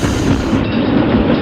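A recorded passenger train rolls past with a steady, loud rumble and rail clatter throughout, sounding close and continuous with no voices over it.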